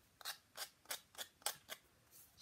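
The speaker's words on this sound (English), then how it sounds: "very handy to have a nail file" A nail file smooths the white rim on a paper die-cut edge for a card, making about seven quick, evenly spaced rasping strokes, faint and close.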